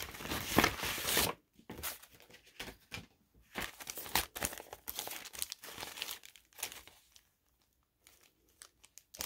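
Scrapbooking paper being crumpled and torn close up while unpacking a subscription craft box, loud crinkling bursts at first, then shorter rustles and tears separated by quiet pauses.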